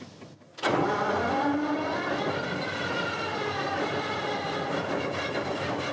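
A 1959 diesel railcar, fully restored, fires up at Pontivy station: after a brief quiet start, the engine catches abruptly and settles into a loud, steady, rumbling idle close by with no talking.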